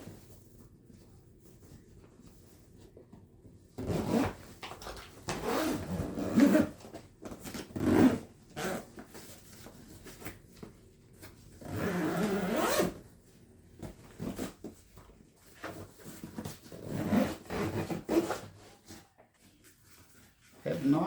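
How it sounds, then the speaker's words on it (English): A Highland Tactical 37-inch double rifle case is zipped up in several long rasping zipper runs, close and clear, with pauses between pulls and someone talking at times. "we're going to zip this up"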